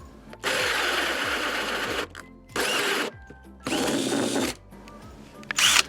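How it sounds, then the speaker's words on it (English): A power drill bores holes into a shed in three long whirring bursts separated by short pauses, loud and close, ending with a brief, higher-pitched spurt as the bit finishes. "Don't hold your mouth open while you're drilling"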